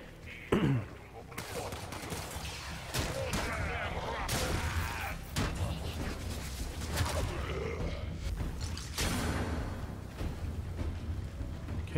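Melee combat in the action game Warframe, with rapid impact hits, sharp clashing bursts and grunting effort sounds layered over a busy, loud battle din that continues steadily throughout.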